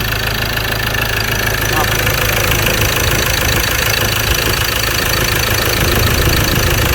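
Worn, loose Ford Ranger T6 engine running with weak acceleration, a loud steady idle with a rough knocking rumble throughout, heard up close.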